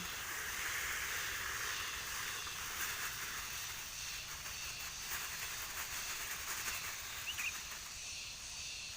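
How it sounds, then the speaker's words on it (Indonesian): A kilo of coarse salt pouring into a mix for homemade weed killer, a steady granular hiss that runs without pause at moderate loudness, with no talking. "garam grosok atau garam kasar ini. Jadi kita masukkan aja, ini 1 kilo ya, 1 kilo"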